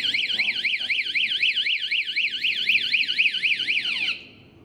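Anti-theft alarm on a 2017 Honda Zoomer X motorcycle, set off by a key in the ignition: a loud, close electronic siren sweeping up and down rapidly in a steady warble for about four seconds, then cutting off.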